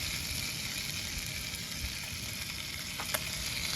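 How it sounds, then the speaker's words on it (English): Hot dogs sizzle and crackle steadily in a pan at a backpacking camp in the Sandia Mountains, close up, with a faint clink of a utensil near the end. "I got 3 glizzies sizzling up on the pan, getting nice and hot."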